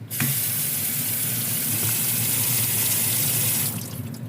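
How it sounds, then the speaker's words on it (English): Kitchen faucet water pours steadily onto lettuce being rinsed in a colander over the sink, a loud continuous splashing rush that runs unbroken and then eases slightly near the end. "Slide it over the sink, rinse the lettuce,"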